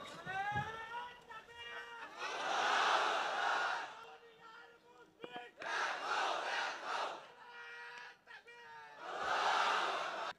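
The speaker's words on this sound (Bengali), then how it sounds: "এই হলো তাকবীর।" A crowd of men at an Islamic sermon gathering shout the takbir, Allahu Akbar, in loud, echoing bursts of massed voices, with a lone voice leading between the swells.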